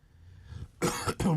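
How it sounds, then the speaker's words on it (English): A pair of sharp, close coughs in quick succession, loud bursts after a brief quiet lead-in. "I may be coughing and sputtering a bit this morning"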